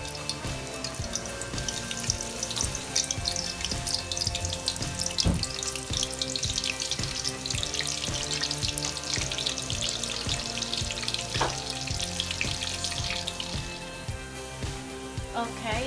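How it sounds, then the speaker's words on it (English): Chopped onions fry in a pan as the first step of Ghanaian shito, a steady broadband sizzle running the whole way through with faint background music and occasional clinks. "I'll be starting off by adding a small onions which I've chopped"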